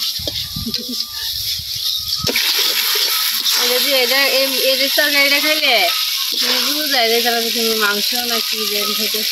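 Cumin paste goes into a raw jackfruit curry cooking in a pan, setting off a steady, close oily sizzle and hiss that runs under people talking throughout.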